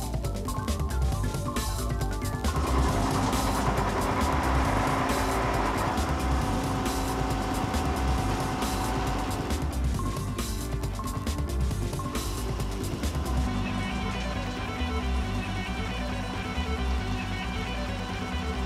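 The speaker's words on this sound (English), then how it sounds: "Here is the comparison of cutting sound and vibration during a large depth shouldering operation." A milling cutter cuts steel in a large depth shouldering operation, a dense, loud, continuous grinding roar with chattering vibration, its character shifting partway through as a second cut is compared.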